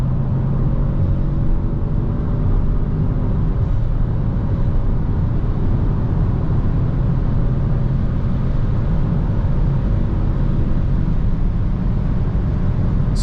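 A 2024 Citroen C4X on winter tires accelerates hard at full throttle on a windy night road, heard from inside the cabin as a loud, steady engine drone mixed with tire and wind roar, no talking.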